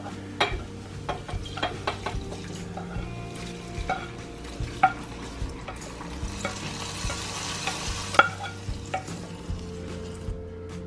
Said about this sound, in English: don't be afraid when it sizzles up like that.